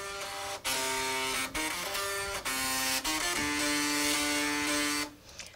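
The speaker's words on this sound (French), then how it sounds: "avec quelques lecteurs de disquettes qui traînaient par là. J'ai mis en place tout un orchestre" Old floppy disk drives rigged up as a robot orchestra at a Reims computer school play a tune of sustained buzzing tones that step between pitches, loud and continuous with brief breaks, ending abruptly.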